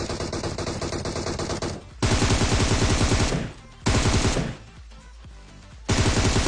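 Repeated bursts of rapid automatic gunfire in the mobile battle-royale game PUBG Mobile. The loud, dense volleys are separated by short pauses, with no talk over them.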